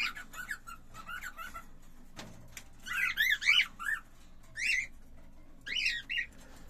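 A male cockatiel sings its courtship call, bright whistled squawks and squeaks in several short bursts with gaps between, fairly close, no talking.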